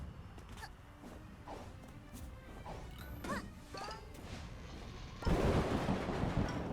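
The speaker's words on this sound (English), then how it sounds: "if there's like lightning trying to kill me, then I'm probably going the right way." Lightning strikes in A Hat in Time: several sharp cracks and smashes scattered over a few seconds, ending in a loud sustained crackling roar of thunder.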